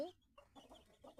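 Young fighting rooster, about eight months old and being readied for cockfights, gives soft clucks and throaty calls in a short burst, fairly close and moderately quiet.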